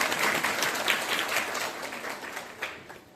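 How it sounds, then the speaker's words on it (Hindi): An audience claps loudly and steadily to welcome a respected teacher onto the stage at a Buddhist gathering, a dense wash of applause that holds for a few seconds before tapering off. "जोरदार तालियों के साथ स्वागत करें आदरणीय आचार्य जी का।"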